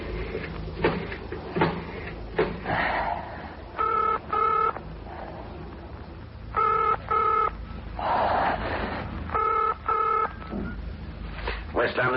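A telephone being dialed with no dial tone, three separate bursts of rapid dialing tones interleaved with someone talking.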